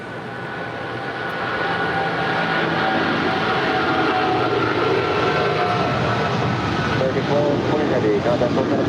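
Steady jet engine roar from an American Airlines airliner taxiing and lining up on runway 25 Right at LAX, building over the first seconds and then holding loud and continuous, with a faint radio voice underneath.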